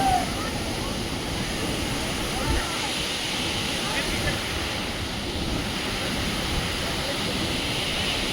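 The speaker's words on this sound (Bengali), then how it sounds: "দেখো পেছনে ঝর্ণা" Continuous roar of a waterfall reached after descending 2000 steps near Sela Pass, dense and unbroken, with spray and some wind buffeting the microphone throughout.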